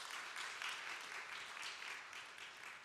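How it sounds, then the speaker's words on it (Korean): A congregation claps to welcome two speakers to the front during a young adults' Sunday church service, a steady dense wash of applause sustained evenly throughout without talk over it. "우리 박수로 환영하겠습니다."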